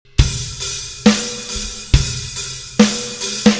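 A rock drum kit plays a steady beat with loud crash-backed hits repeating roughly every second, kick and snare strokes in between, and a snare pickup note leading into the next bar; close, loud, with no talking.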